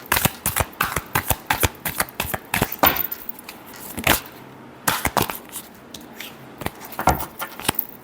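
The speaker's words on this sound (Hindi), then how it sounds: "Last shuffle." Tarot cards are shuffled by hand nearby in a series of quick, crisp riffling bursts and taps, with short pauses between rounds.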